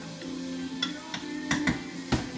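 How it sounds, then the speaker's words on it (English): Italian sausage and mixed vegetables are stirred in a hot pan, giving a run of short scraping clicks and knocks over a steady low sizzle, close by with no talk. "Give that a quick stir"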